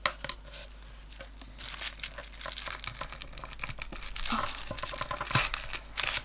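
Scissors snip through gel polish removal wraps, their foil and cotton crinkling and tearing in quick, close, irregular cuts over several seconds.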